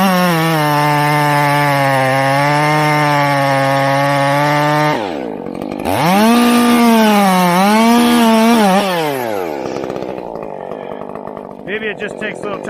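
A Stihl chainsaw cutting while felling a tree in winter: a loud, steady high whine drops abruptly and bogs down, then revs back up with wavering pitch before falling to a rougher, lower idle.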